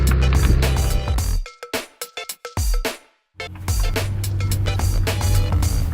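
A BMW M5 super saloon drives on the road with a loud, close engine and road roar. The sound breaks into short choppy bursts and a brief silence midway, then returns to a steady drone.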